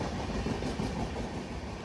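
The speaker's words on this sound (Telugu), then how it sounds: "హౌడా బెంగళూరు ఎక్స్ప్రెస్" The Howrah Bangalore Express rolls past with a loud, close, continuous rumble of carriages and rail noise.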